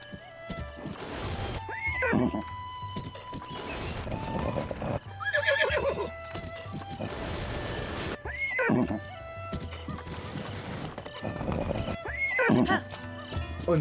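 A horse in Zelda: Breath of the Wild whinnies repeatedly, in rising and falling neighs every few seconds, while hooves clatter down rocks under game ambience.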